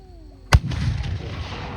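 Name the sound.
guns firing at 18th-century reenactment festival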